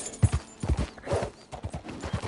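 Horse hooves clip-clopping in a steady trotting rhythm from Red Dead Redemption 2, close and clear, with a brief whinny in the middle and no talk over it.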